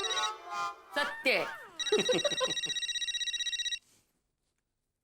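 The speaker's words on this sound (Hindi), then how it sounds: "फोन की रिंग बजती" A telephone rings in a household scene: a loud, rapid electronic trill pulsing for about two seconds after brief overlapping talk, then cutting off into silence.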